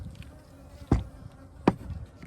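Honey bees buzz in a low, steady drone, close by at a hive with queen cells, with a couple of sharp thumps breaking through.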